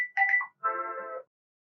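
A Samsung phone ringtone plays a short melodic chime of a few bright tones followed by a longer sustained note, clear and close with no talking.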